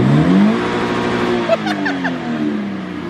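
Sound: car engine revving

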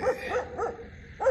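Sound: dog barking

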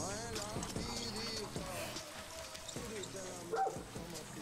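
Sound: dog barking in video game Far Cry 6

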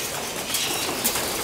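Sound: pigeons in a loft

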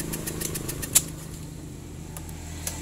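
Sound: motorcycle electric starter cranking

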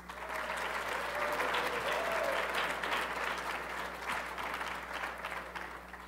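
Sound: audience applause for school chess winners

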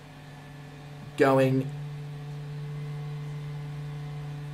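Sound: DC-3 aircraft noise in Microsoft Flight Simulator video game

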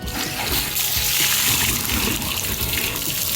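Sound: water sprayed to rinse an EV charging-app car

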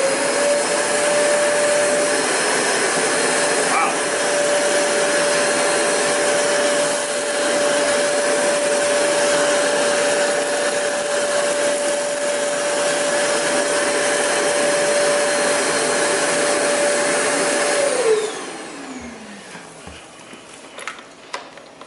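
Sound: Zero G floating vacuum cleaner running, bare floor pickup test

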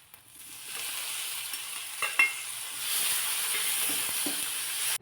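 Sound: sautéing garlic, pepper and cumin paste in a pan

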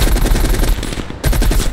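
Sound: gunfire in a video game

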